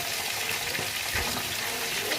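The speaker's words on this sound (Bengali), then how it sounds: "তেল গরম করে সেই তেলে আমি কাঁকড়াগুলো ভাজছিলাম" Crabs frying in hot oil produce a broad, steady hiss and rushing sizzle, close and continuous, with a few faint low knocks.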